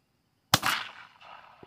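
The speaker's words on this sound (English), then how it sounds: "He's gonna take a shot down range" A single sharp crack from a Ruger Wrangler .22 long rifle fired down range outdoors, followed by a short fading echo and a faint later thump, with no voices.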